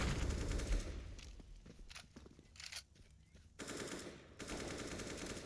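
Counter-Strike gunfire, including an AWP shot, crackles in dense rapid bursts over a busy game soundscape, loud at the start, thinning in the middle and returning strongly near the end.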